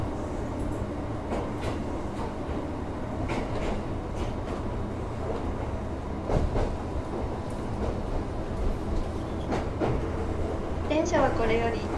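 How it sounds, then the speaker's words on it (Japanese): A Choshi Electric Railway train hums and rumbles slowly downhill through trees with faint clacks from the rails, steady and enclosed, heard from inside a carriage. "電車はこれより木々の間をゆっくりと下ってまいります"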